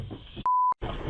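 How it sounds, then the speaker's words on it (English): A mobile phone gives a single short, pure electronic beep, sharp and loud against softer background sound before and after. "That was my phone."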